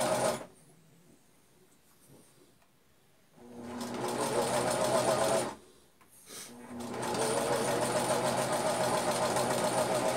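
Domestic sewing machine stitching a shirt cuff, running in two steady bursts of rapid mechanical whirring and needle clatter separated by short pauses, close and loud.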